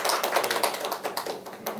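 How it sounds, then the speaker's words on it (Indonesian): Brief audience applause for Siti in a university teaching session, a short burst of close, crisp hand claps at a steady rapid rhythm that thins out toward the end. "kita beri tepuk tangan dulu untuk Siti tadi"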